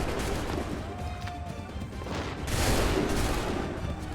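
Musket volley gunfire in Assassin's Creed 3, a dense sustained fusillade of rifle shots rolling continuously, swelling louder about midway through amid battlefield din, with no voices.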